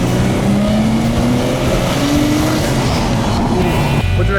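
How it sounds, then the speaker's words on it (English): A turbocharged RB25 engine with a massive exhaust roars loud and close, a steady throaty drone with rising pitch sweeps as it pulls, then a sudden shift in tone near the end. "And then the RB25 sound as well, the massive exhaust,"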